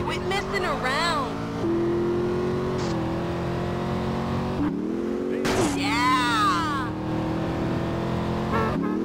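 A car engine drones and revs steadily, shifting pitch as it accelerates, with a brief squeal and a whooshing pass partway through.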